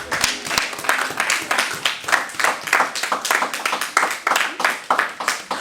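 A church congregation claps and cheers together, dense rhythmic applause with shouts running steadily throughout, loud and close.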